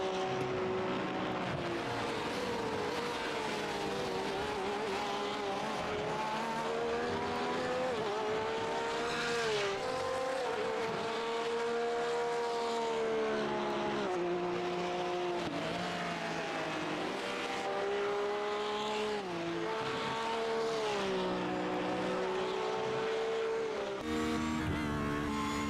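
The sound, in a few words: race car engine on board, Le Mans racing video game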